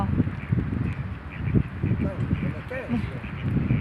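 Wild ducks quack repeatedly at close range, a pair of them, one black and one white, calling amid light rustling while someone talks over them.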